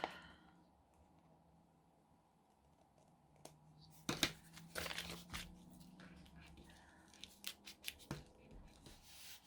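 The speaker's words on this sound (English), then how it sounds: "And I'll just snip this just a wee bit." Paper snipped with scissors at a craft desk while making journaling pockets and cards from scraps: soft, close cuts and crinkles, with a few sharper snips spaced out over quiet moments.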